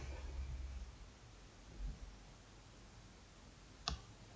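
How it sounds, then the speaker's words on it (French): A single sharp computer mouse click, made while confirming an OK button in software, lands near the end after several seconds of faint, steady room hiss. "Et on va cliquer sur OK."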